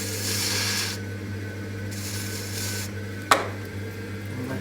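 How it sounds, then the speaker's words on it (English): A bamboo rib rubs and presses against spinning clay on a potter's wheel, a soft rasping scrape that swells and fades in passes over the wheel's steady motor hum, with one sharp tap near the end. "I'm just going to use a bamboo rib just to strain it out and push against it."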